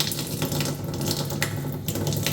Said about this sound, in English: So let's go ahead and open the faucet.